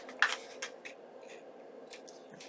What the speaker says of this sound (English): bringing in my scissors and giving it a little snip